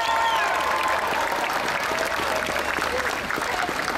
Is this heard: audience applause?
yes